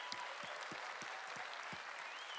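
A crowd at a church service applauds the mothers, a continuous wash of distant clapping, soft but steady, with a regular low thump running underneath.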